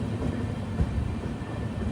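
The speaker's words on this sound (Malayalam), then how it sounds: "ട്രെയിൻ ഇപ്പോൾ കുഴിത്തുറൈ റെയിൽവേ സ്റ്റേഷനിലേക്ക് ഇതാ എത്തുകയാണ്" The Himsagar Express pulls into Kuzhithurai railway station with a low, continuous rumble of wheels and carriage noise, moderately quiet and unbroken throughout.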